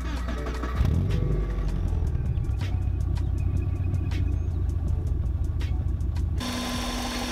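A car with a big, meaty exhaust cranks and fires up, then settles into a steady, loud rumbling idle with rapid regular pulses, close to the microphone; the tone shifts abruptly near the end.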